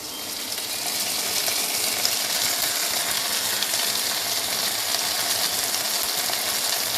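Steady sizzling fills the clip, a dense, close crackle of veg Manchurian gravy with tomato ketchup frying in a hot pan, with faint scraping now and then.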